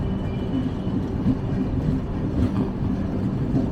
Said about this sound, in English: WAP 5 in blue livery hauling heavy luggage coaches coming on the opposite side.